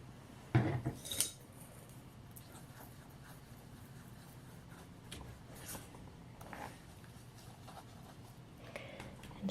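Yellow and orange paint is mixed for collage art, giving faint, sporadic scraping and light tapping close by over a quiet background.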